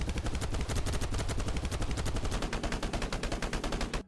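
Rapid automatic gunfire from a video game weapon, a continuous dense burst of evenly spaced loud shots lasting the whole four seconds.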